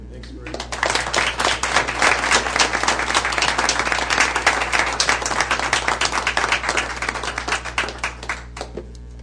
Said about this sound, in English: these folks can't wait to give you a big round of applause